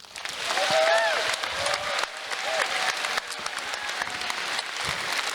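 Applause for an event coordinator fills the opening ceremony of the NordicFuzzCon 2024 furry convention, a loud, steady crowd clapping with scattered whoops and cheers throughout.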